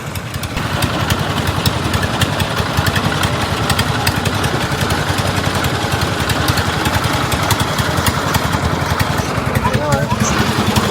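A boat engine chugs at the Kaptai launch ghat, a loud, steady, rhythmic idle thrumming close by throughout, with a few faint voices in the background.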